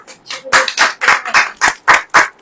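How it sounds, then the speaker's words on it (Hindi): Hands clapping in a sermon hall, about nine sharp claps in a steady, quick rhythm, fairly loud and close, with faint speech before the first clap. "ताली बजाइए, ताली बजाइए भाई"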